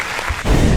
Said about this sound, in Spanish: Un aplauso, señores, un aplauso